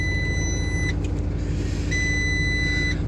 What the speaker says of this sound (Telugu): సౌండ్ వస్తూనే ఉంటుంది అనమాట సీట్ బెల్ట్ పెట్టుకునేంత వరకు.